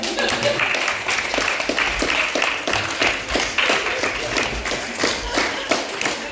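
A crowd applauds during a nighttime guided tour performance at Mariánská Týnice, steady dense clapping lasting throughout, fairly loud and close, with a few louder individual claps standing out.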